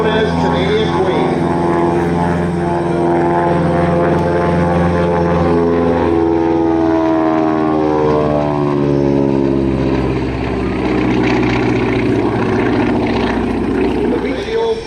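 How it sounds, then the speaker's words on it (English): A Beechcraft C-45 Expeditor named Canadian Queen, with piston engines of over 450 horsepower each, makes a loud propeller flypast at an air show. Its droning engines rise and fall in pitch as it passes close by, with a commentator talking over it. "Beautiful pass from the right. Debut it in the expediter known as Canadian Queen."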